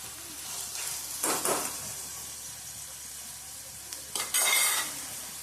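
Onion, garlic and chopped chilies frying in a pan for a Rajasthani chutney, a quiet sizzle broken by a few bursts of spoon stirring and scraping against the pan, with no talk.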